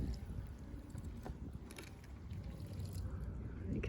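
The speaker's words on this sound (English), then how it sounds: "So this is the water draining out." Dirty water from a Bissell Revolution Hydrosteam Pet carpet cleaner drains out in a steady low rushing gurgle with faint trickles, continuous and fairly close for the whole stretch.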